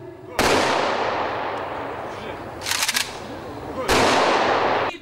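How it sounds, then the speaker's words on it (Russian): A ceremonial rifle salute volley at an outdoor Victory Day memorial, with loud sharp gunfire blasts echoing in succession, a sputtering crackle in the middle, then another heavy burst, close and forceful. "В честь подвига народа-победителя прогремел и оружейный залп."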